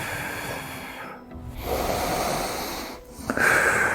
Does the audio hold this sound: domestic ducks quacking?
no